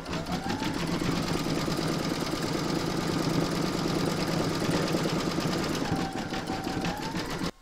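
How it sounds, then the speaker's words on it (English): An embroidery machine zigzag stitches in the hoop around the edge of a fabric witch's boot shaft, a loud, continuous rapid mechanical chatter close by that stops abruptly at the end. "You're now going to pop that back into your machine and stitch round number 10, and that's going to zigzag around the edge of the shaft."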